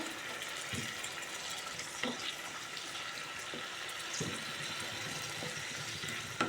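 Tomatoes frying in a pan for mint and coriander chutney, a soft continuous sizzle with a few faint spoon scrapes, fairly quiet and steady throughout.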